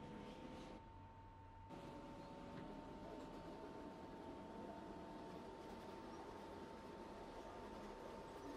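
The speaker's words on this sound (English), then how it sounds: "This is a Bronx-bound 3 train via the 2 line." A Bronx-bound New York subway 3 train running along the 2 line, a steady, faint rumbling hum inside the car with a constant tone and a brief dip partway through, no voices.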